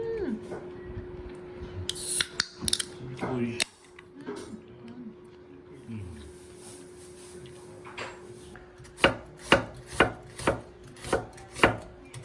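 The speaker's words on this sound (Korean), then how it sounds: "양파를 썰어줍니다" Onion chopped with a knife on a board, scattered cuts early then a run of about eight evenly spaced sharp chops near the end, fairly close, with a quiet low hum and faint talk.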